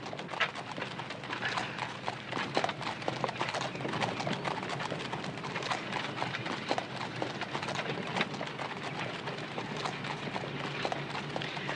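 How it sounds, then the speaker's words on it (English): Horse hooves clip-clopping at a brisk gait on an old Western trail, a steady, fairly quiet rhythm of hoofbeats running throughout with faint outdoor ambience and no talk. "Could you, get your horse to manage a livelier gait?"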